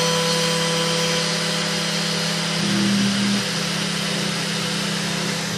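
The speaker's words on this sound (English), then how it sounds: "Stepper motor's working over here." Stepper motors on a DIY CNC machine drive it on its first run at slow feed rates, a loud, steady mechanical whine and hum that continues throughout, with a brief pitch change midway.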